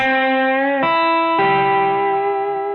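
Open guitar strings ring out together in sustained, overlapping tones in a blues context, with fresh notes plucked twice and left to resonate through a slight effects-laden sheen.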